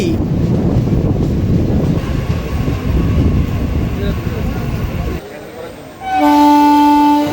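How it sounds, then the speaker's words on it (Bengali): A local train on the Ranaghat–Gede line rumbles and rattles with wind noise while departing Panchberia Halt station in India, then the noise drops away and a loud horn blares near the end. "আমাদের ট্রেন পাঁচবেরিয়া হল্টে কিছুক্ষণ দাঁড়িয়ে ডিপার্চার নিয়ে নিচ্ছে"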